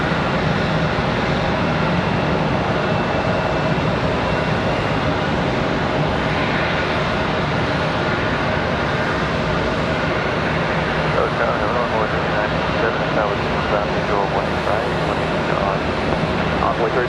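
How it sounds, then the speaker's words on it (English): An Airbus A321 airliner arrives at Charlotte Douglas airport, its engine noise a steady, broad roar that holds at moderate loudness throughout the stretch. "Nice smooth arrival for the A321"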